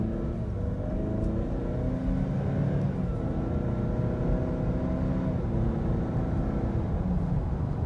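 A 2021 Ford Explorer accelerating briskly from low speed, its engine note climbing steadily in pitch through the gears with a steady loud rumble and road noise, no voices over it.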